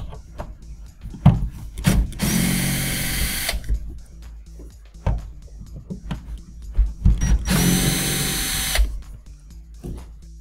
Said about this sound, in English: we're able to go ahead and undo the screws, and then the optical block will come out